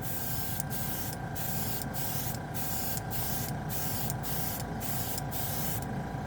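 Short hissing bursts of an aerosol spray can laying down a final coat of Jumpwind metallic paint, about nine even passes in a steady rhythm over a constant low background hum, close and clear with no talking.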